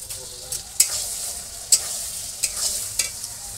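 Chicken pieces fry in a pan for a home-style kosha, giving a constant sizzle punctuated by several sharp scraping stir strokes, close and fairly loud, with no speech.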